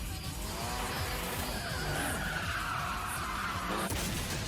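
A car drifting in the film Tokyo Drift, with loud sustained tire squeal and skidding over a continuous engine roar that rises and falls across the whole stretch, with no voices.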